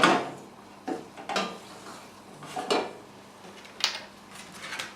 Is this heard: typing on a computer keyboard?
no